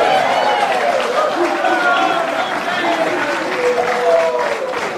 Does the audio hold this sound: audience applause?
yes